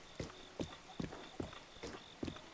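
Horse hooves clip-clop in a steady galloping rhythm in The Legend of Zelda: Breath of the Wild, six evenly spaced impacts ringing over a faint constant background tone.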